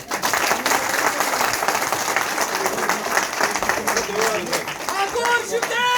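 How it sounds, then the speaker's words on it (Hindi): A crowd at a BJP political rally claps loudly and continuously, with voices and shouts rising through the applause toward the end. "तालियां नहीं बजा दे दोस्त"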